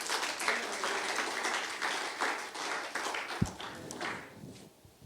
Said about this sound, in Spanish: Denle un aplauso con todo su corazón